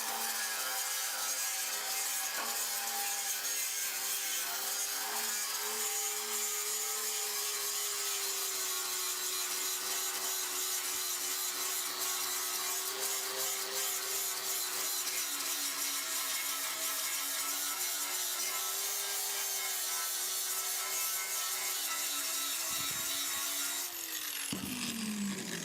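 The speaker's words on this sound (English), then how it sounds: "he's gonna keep grinding that thing down until it's smooth." A power grinder wears down the weld on a steel bumper for a GMC Sierra truck. It gives a steady, harsh, whining grind that lasts throughout and cuts off abruptly near the end, and no one speaks.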